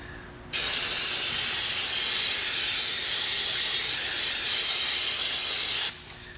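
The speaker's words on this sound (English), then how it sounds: "No, I'm just using brake clean for this." A can of brake cleaner sprays onto the clutch area of a 2002 Ford Focus as one loud, steady hiss lasting about five seconds, with quiet before and after.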